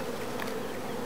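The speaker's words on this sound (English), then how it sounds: "Oh, Mom, some of your honeybees are back." Honeybees buzz at the entrance of a newly installed nuc hive in May, a steady, close, faint drone of many wings with no voices.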